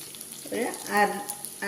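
Ginger sizzling in hot oil in a pan during cooking for an Onam dish, with a steady close frying crackle that rises in short bursts, likely from stirring.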